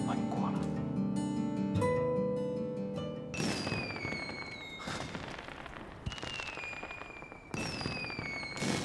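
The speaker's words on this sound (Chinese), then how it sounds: "有人放烟花？" Fireworks burst near a school building at night, a series of sharp cracking bangs with crackling tails, one cluster then several more spaced a few seconds apart, moderately distant.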